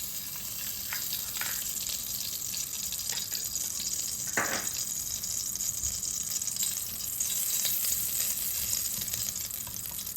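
Ghee melting in a hot pot while tempering is prepared gives a steady broadband sizzle throughout, with a few brief clinks and a faint watery wash in the background and no talk.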